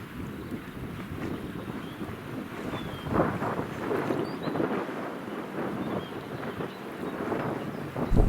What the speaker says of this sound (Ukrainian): Зараз ось піднявся такий вітер вже сильний